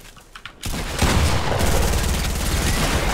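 Gunfire in a Fortnite match: after a quiet start, rapid automatic bursts with booming impacts begin and keep up as loud, dense shooting to the end.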